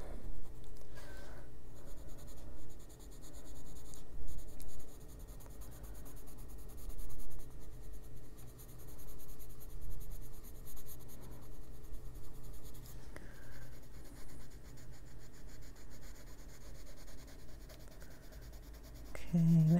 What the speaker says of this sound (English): So we're going to do that with the pencil.